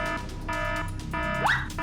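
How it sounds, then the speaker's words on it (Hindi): An alarm sounds in repeating electronic bursts with steady tones and a rising sweep, fairly close, with no one talking. "ये अलार्म कैसे चालू हो गया? सायरन क्यों बज रहा है?"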